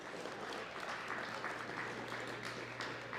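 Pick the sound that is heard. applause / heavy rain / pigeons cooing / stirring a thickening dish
applause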